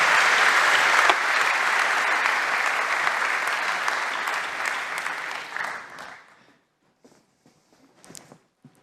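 An audience applauds at a defence round table during a Dassault Systèmes forum, with sustained, dense clapping for several seconds that tapers off into a few scattered claps and near silence.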